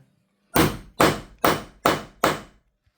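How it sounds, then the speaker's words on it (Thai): Snap fasteners being hammered onto a canvas boat cover: five sharp, evenly spaced hammer strikes ring out close and loud after a short quiet start. "แล้วก็ตอกค่ะทุกคน การทำกระดุมแป๊บเรือ"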